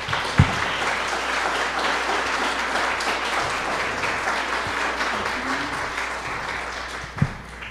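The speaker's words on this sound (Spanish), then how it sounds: "a quienes les pido un fuerte aplauso" A conference audience gives loud applause to welcome two INAH specialists, Dr. Alejandro Villalobos Pérez and Rubén Cabrera Castro, at a keynote lecture. Sustained crowd clapping runs throughout, with a couple of sharper knocks standing out.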